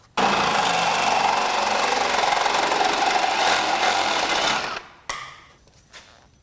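A power cutting tool trims a tube on a Ford Super Duty pickup, giving a loud steady buzzing grind for about five seconds that stops abruptly, followed by a few brief fading bursts.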